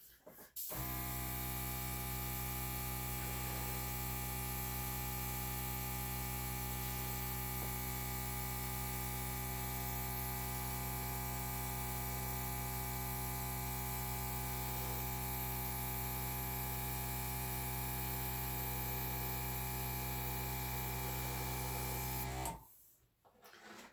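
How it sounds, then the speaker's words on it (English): A steady airbrush hisses continuously for over twenty seconds while spraying paint along the edges of a pink Dutch pour painting, with a constant motor-like hum beneath the spray and an abrupt stop at the end. "take my airbrush and get a little creative with the edges"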